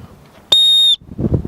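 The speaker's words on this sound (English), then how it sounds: "It works. It's very high pitched." One short, piercing blast from a survival whistle, sharp and loud at close range, with quiet room sound before and after.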